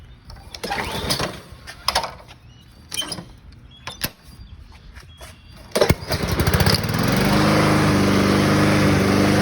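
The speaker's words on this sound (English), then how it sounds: "A little bit of a backfire there." Honda HRZ216TDA walk-behind lawn mower from 2007, revived after long storage under a deck, sputtering through several uneven bursts and knocks before catching and settling into a steady close running drone.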